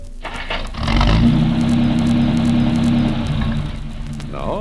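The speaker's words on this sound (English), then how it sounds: "No, that's not an automobile engine. That's a tractor. But notice how smooth she runs." A Farmall 460 tractor's six-cylinder gasoline engine starts and runs with a smooth, steady mid-pitched hum, loud and close, easing slightly toward the end.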